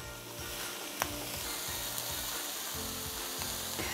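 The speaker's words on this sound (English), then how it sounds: "So we just want those to absorb some of that butter and start to cook down a little bit." Mushrooms and onions cooking down in butter in a pan, a steady close sizzle with a soft rhythmic churning beneath and one faint clink.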